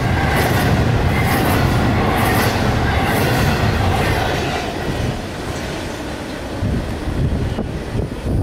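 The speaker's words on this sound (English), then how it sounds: "It's a train," A train rolls past at night near Tampa, a loud steady rumble of wheels and clattering cars close by, holding strong before easing slightly toward the end.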